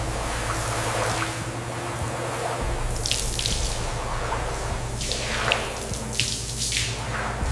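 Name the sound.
water rinsing off a car during restoration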